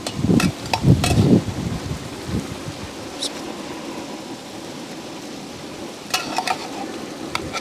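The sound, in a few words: stirring rice into boiling masala for egg biryani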